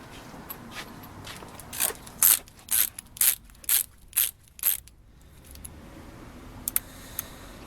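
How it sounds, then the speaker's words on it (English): Torque wrench tightening sway bar bolts on a second-generation DSM car, a row of about seven sharp ratcheting clicks in quick succession, close and fairly loud, then a few faint clicks. "from here, we're going to use a torque wrench"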